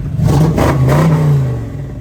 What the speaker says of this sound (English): I want to let you guys listen to the exhaust on this thing real quick